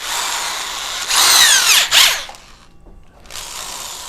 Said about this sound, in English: I'm gonna take my drill again